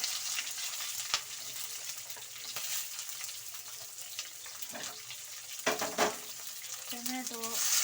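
Cashews, ginger, garlic and onion frying in oil for channa batoora, a continuous close sizzle with occasional stirring clinks and utensil knocks, and a short tonal squeak near the end.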